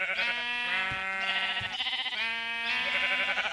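Sheep bleating in the video game Luigi's Mansion: several loud, wavering bleats in quick succession, close and clear, with no talk.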